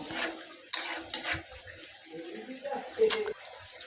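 Pabda fish curry with okra being stirred in a pot after chopped coriander leaves go in: a few sharp clinks and scrapes of a spoon against metal over a faint bubbling simmer.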